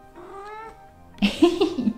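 A pet cat lets out a few short, close meows, a faint mew first and then a louder, strained cry, in a quiet indoor room at home.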